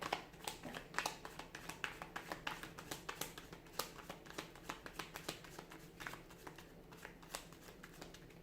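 Tarot cards shuffled continuously by hand, a steady run of quick papery riffles and taps, close and fairly quiet with no voice.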